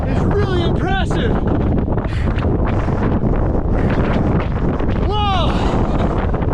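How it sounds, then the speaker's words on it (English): Strong wind buffets the microphone on an exposed Icelandic mountain hike, a loud continuous roar with gusts, while a person speaks briefly over it. "That wind is really impressive."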